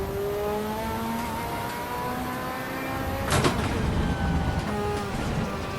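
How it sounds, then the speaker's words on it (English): A Ferrari F40 LM in the racing game Assetto Corsa EVO accelerates hard with its wheels spinning. A loud, steady engine drone carries rising harmonic tones, with a short sharp burst partway through and no talking. "Wheels are spinning."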